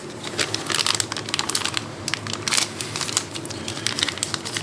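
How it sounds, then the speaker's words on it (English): A heat-sealed plastic package holding a Grom motorcycle shift shaft support is ripped open up close, giving bursts of sharp crinkling and tearing crackles that come in quick, uneven waves. "rip open our package, which is very nicely packaged"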